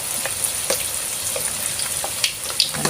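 Chicken deep-fries in hot oil with a dense, crackling sizzle and scattered sharp pops and spatters throughout, loud and close.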